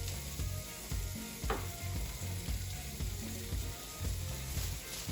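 A seasoned smashburger patty sizzles on a hot griddle, a dense, steady crackling fry sound close by with small rhythmic clicks running through it.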